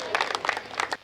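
An audience at a Hindi poetry recital claps briefly in a short, uneven flurry that cuts off abruptly.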